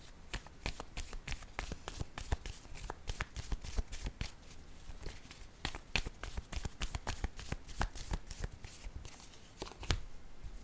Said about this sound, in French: Je vais y aller avec 2 cartes de mon jeu haut